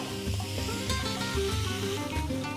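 Beef browning in batches in hot oil in a pan for a Spanish paprika dish, a steady sizzle under a low, rhythmic tonal hum, close by and with no voices.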